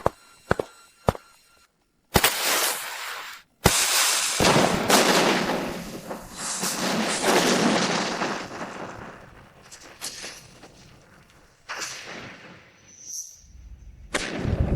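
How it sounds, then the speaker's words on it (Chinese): Cannon artillery bombards a fortress gate in an animated battle drama: several sharp booming blasts with sudden onsets, then long rolling, crackling rumbles and debris noise, loud and close. "给本王装填炮弹，准备第2轮炮击。"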